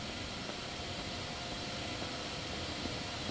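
A constant, dull airplane engine drone in GTA 5 holds at low volume throughout, steady and distant-sounding, with no talking.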